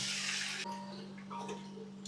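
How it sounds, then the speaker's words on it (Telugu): Water is poured into a pan of partly cooked chicken in a guest house kitchen in Goa, a short loud gushing splash that settles into softer bubbling over a steady hum. "దీంట్లో అయితే ఇప్పుడు వాటర్ పోటేస్తున్నా."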